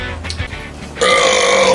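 A man lets out a loud, drawn-out burp right after eating a whole burrito, the belch swelling abruptly and holding steady to the end after a quieter stretch of room noise.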